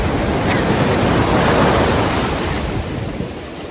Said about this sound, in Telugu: ఉండి పెద్ద అల వచ్చినది.